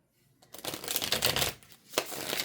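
Tarot cards are shuffled up close in a brisk riffle of papery flutters, followed by a short second burst.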